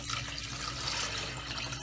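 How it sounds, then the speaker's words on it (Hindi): About a litre of water is poured into a pot for chicken soup, a continuous bright splashing rush close by with no talking. "1 लीटर के करीब पानी डालेंगे"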